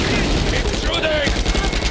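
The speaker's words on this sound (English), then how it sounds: "Keep shooting!" Gunfire in the video game Uncharted 4 during a firefight, a dense, loud stream of rapid shots and booms under shouted voices.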